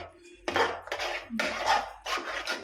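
A metal spoon scrapes and clatters around a pan while turmeric is stirred into pav bhaji, four distinct rough scraping strokes with brief pauses between, close and clear with no talk.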